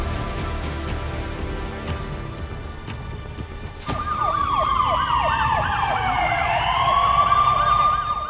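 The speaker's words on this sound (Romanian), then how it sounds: "20 de mașini de pompieri și 39 de ambulanțe veniseră." Ambulance and fire truck sirens wail at the scene of an emergency, with rising and falling tones swelling in loudly at mid-clip over steady background noise, several sirens overlapping.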